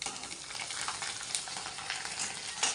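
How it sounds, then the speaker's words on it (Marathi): Vada for vada pav dropped into hot oil, a soft, steady bubbling sizzle with small crackles, fairly quiet and continuous with no voices. "आता ऑलमोस्ट तळते मी तेल ठेवले थोडंसं बघा तर तेलामध्ये टाकते"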